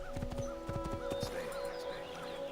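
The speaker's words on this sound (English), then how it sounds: "Come on horse, keep galloping," A horse gallops in Assassin's Creed 2, with rapid, rhythmic hoofbeats and a brief whinny set against a steady game background.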